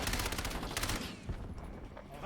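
Dense gunfire in the video game Black Ops 7, a loud continuous burst of rapid shots that thins into scattered reports, with a voice talking over it.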